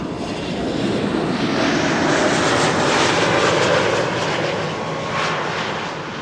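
A jet airliner arrives at Amsterdam Schiphol Airport, its engines a loud, smooth roar that swells as it passes fairly close and then eases slightly.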